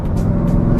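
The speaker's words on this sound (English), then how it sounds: "You want to like just kind of rev that engine up because it sounds so good" Loud car engine held at a steady, throaty rumble close by, alone and without speech, lasting under a second.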